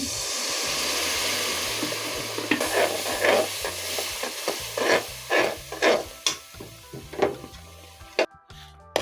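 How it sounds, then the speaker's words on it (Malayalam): Vinegar poured into a hot pan for gooseberry pickle sets off a low steady sizzle, then a series of bubbling bursts and stirring clatters close by, ending abruptly. "ഇതിൻ്റെ കൂടത്തിൽ കുറച്ച് വിനാഗിരി ഒഴിച്ചു കൊടുക്കുവാണ്"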